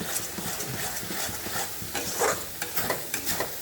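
Paneer masala with chilli powder is stir-fried in a pan: a spatula scrapes and knocks rhythmically against the metal over a low sizzle, close up, with no voices.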